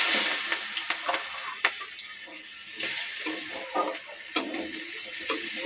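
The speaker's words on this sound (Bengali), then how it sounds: "আলু ভেজে তুলে নিয়ে ওই তেলের মধ্যে দিয়ে দেবো কালো জিরে, শুকনো লঙ্কা আর কেটে রাখা পেঁয়াজ" Onions, nigella seeds and dried chillies fry in hot oil for a Bengali rohu or katla fish curry, giving a steady close sizzle with occasional sharp clicks and stirring scrapes, no voices.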